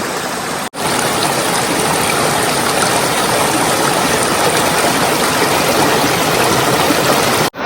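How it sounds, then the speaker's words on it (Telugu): A small waterfall and stream at Antharaganga near Ramoji Film City, Hyderabad, Telangana, pours out a loud, steady, close rush of water that runs unbroken apart from two momentary cuts. "చిన్న వాటర్ ఫాల్ ఇది"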